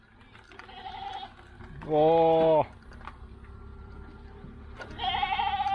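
Rented goats bleating loudly nearby at a weed-clearing site, one long wavering bleat in the middle and another bleat near the end, with a brief exclamation from a person and light clicking noises in between.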